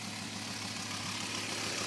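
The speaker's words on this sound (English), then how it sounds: "You might be able to hear already that I've got an exhaust leak somewhere right around where the headers join into the main pipe" A 1991 Audi 90 quattro 20V idles steadily up close, its engine running with an exhaust leak near where the headers join the main pipe, giving a constant low hum with broadband hiss and no voices.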